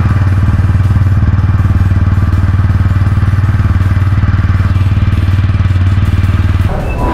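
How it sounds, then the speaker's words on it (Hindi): Exhaust of a 2021 TVS Apache RTR 200 4V motorcycle with dual-channel ABS, a loud, close and steady idle that throbs evenly throughout before cutting off at the very end. "आइए जान लेते हैं इसका एग्जॉस्ट साउंड कैसा है"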